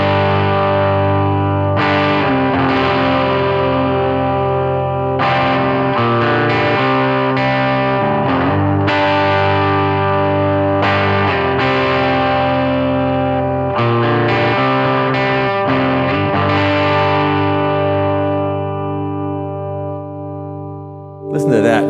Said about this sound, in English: I've switched over to a Gibson Les Paul with mini humbuckers. I've got it in drop D tuning for a great raw tone.